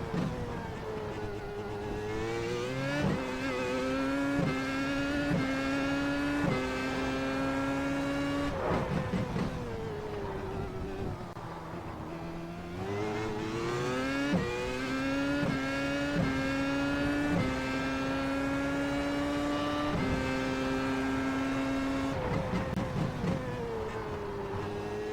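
Williams FW31 Formula 1 engine in a racing sim, screaming through repeated upshifts in rising stepped sweeps, dropping back and climbing again, loud and continuous with no talk.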